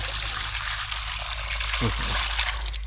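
Horse-hoof clams are rubbed and washed in water, giving a continuous splashing and trickling with a couple of brief clacks of shells near the end.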